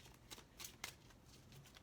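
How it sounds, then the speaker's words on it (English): Tarot cards are shuffled, several quick soft riffling bursts spaced irregularly, quiet and close, with no voices. "this will be our last shuffle"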